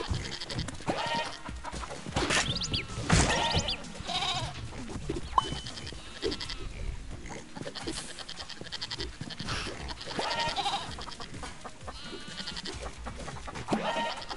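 Goats in the Moving Out 2 video game bleat over and over, loud, close and overlapping, with panting and busy game noise underneath and no talking.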